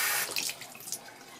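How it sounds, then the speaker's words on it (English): Water poured from above onto a sheet of ordinary paper, a close splashing trickle that is strongest at the start and tapers over about a second, with no talking. "so let's just pour some water on there."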